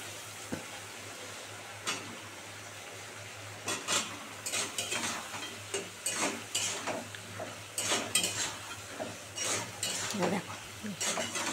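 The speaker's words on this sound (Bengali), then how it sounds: "এবার ঝিঙেগুলো দিয়ে দিচ্ছি।" Raw sliced ridge gourd tipped into a pan for a green mango and bata fish curry, followed by a spoon scraping and stirring against the pan in repeated bursts over a low, steady sizzle.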